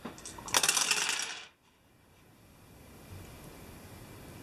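Dice rattle and clatter in a tight burst for about a second during a Mansions of Madness board game, then quiet room tone, no voices.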